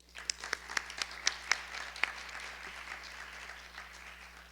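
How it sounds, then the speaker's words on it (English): Scattered audience applause at an international mountain festival symposium, a few sharp individual claps up front blending into soft, fairly distant clapping that tapers off, heard alone over a faint hum. "a round of applause, and let's invite Dr. Schaeffer up"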